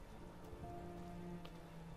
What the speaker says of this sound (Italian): Bello il rumore della pioggia, comunque, molto bello.